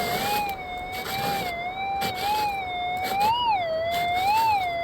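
A Garrett Axiom metal detector sounds a continuous wavering tone over a gold target just dug from a California gold field, steady and close, warbling up and down in pitch.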